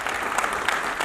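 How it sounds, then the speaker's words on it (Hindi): Brief burst of audience clapping at a Yadav community welfare gathering in Chandigarh, dense and fairly loud applause from a crowd with a few sharper claps. "शास्त्री जी, ताली बजनी चाहिए"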